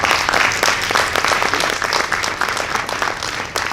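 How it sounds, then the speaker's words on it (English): A crowd at the Saddle Brook Board of Education candidates forum in 2022 gives a round of applause: loud, continuous clapping from many hands that stays even for nearly four seconds. "now we can give them a round of applause"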